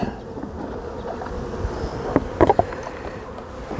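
Bees buzz steadily around an open hive, a dense, close hum with a few sharp clicks and knocks of hive handling.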